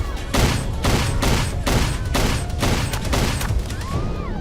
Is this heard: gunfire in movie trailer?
yes